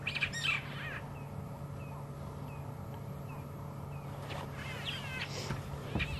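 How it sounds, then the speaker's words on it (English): Cape glossy starlings call in short scattered chirps and whistles out on an evening safari drive in the African bush, fairly faint against a steady hum of wind and vehicle noise. "And you have that Cape glossy starlings around us."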